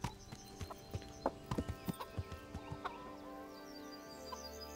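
Horse hooves clip-clop at a loose, uneven pace in Kingdom Come: Deliverance, fairly close, over a quiet background with a faint tonal hum.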